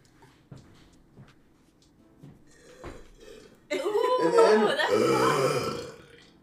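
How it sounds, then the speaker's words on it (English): A person burps deliberately by swallowing air, a long loud guttural belch of several seconds following a few small sounds, close to the microphone. "I can make myself burp whenever I want."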